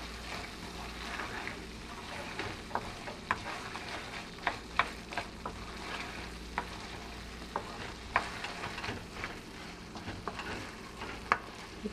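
Chula bhaji with coriander leaves sizzles quietly in a pan while a spoon stirs it, giving soft scraping and a string of sharp clicks against the pan over a steady low frying hiss.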